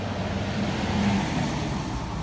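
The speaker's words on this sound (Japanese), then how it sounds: "往来を走る車" Cars drive along a nearby road in a steady low rumble of traffic, moderately faint and continuous, with no voices.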